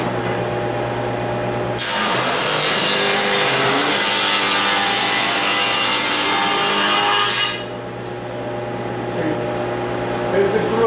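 A table saw cuts a half-inch-deep groove in a wooden cabinet door rail. The blade runs loud and steady for about six seconds, then stops, with a low motor hum under it the whole time.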